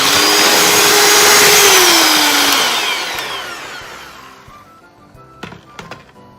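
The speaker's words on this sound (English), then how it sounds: "I'm going to mix it till it is nice and creamy." Electric mixer creaming cream cheese, butter and sugar for cheesecake Christmas cookies, a loud steady whir that winds down and stops, followed by a few light clinks of the beaters.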